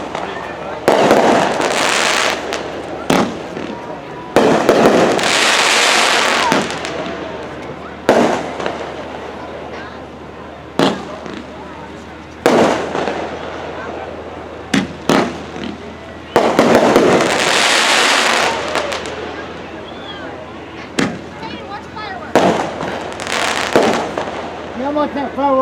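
A fireworks display outdoors, with repeated loud booming bursts and crackling tails at irregular intervals over a steady low rumble, while people talk between the explosions.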